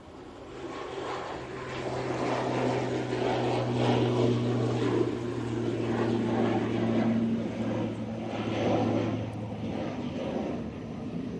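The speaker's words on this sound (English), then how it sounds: "Now, on the runway, this is the ATR 72 off to the Isle of Man." An ATR 72 turboprop airliner taking off from a runway at Manchester Airport produces a steady propeller drone heard from a distance, swelling gradually and holding for several seconds.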